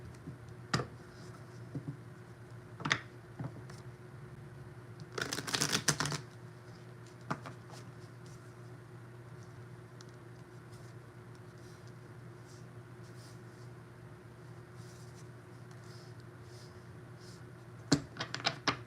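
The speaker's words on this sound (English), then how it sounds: "I'm gonna shuffle these 2 more times" A deck of tarot cards is shuffled by hand in a quiet room, with sparse soft riffles and taps and one brief louder burst of shuffling midway. The sounds are faint and fairly close, and no one speaks.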